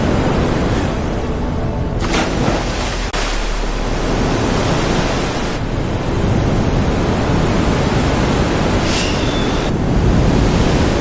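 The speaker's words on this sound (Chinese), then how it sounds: "海浪朝这边来了，浪好大！" Big sea waves rolling toward a ship at sea, a loud continuous roar of surf and wind with surging swells, no talking heard.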